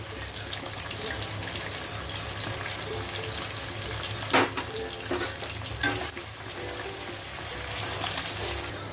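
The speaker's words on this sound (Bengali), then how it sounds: "প্রথমে পেঁয়াজটা দিয়ে দেবো আমি। পেঁয়াজটা ভেজে তুলে নেব," Onions fry in a wok with a continuous hiss, and a few louder scrapes and splashy bursts stand out partway through.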